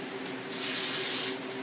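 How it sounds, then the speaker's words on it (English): A short burst of hairspray from an aerosol can, a single close hiss lasting under a second, alone over quiet room tone. "take the hairspray and you just want to spray a little bit all the way around"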